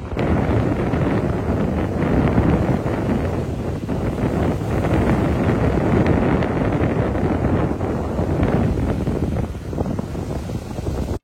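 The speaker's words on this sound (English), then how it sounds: "Such a blustery day when we visited." Strong, blustery wind buffets the microphone on a sunny seaside day in Blackpool, a loud continuous roar with gusting swells throughout and no voices.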